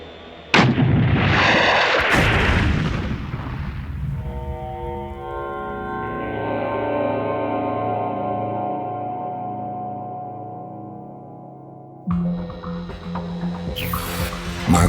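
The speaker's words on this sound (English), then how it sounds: "Should H.M.C.S. Brook ever have to fire a torpedo in anger, this is what it would look like." A submarine fires a Mark 48 torpedo in a water shot, opening with a heavy, loud blast, then a long hissing, rushing wash with a tonal whine that fades before fresh splashing noise.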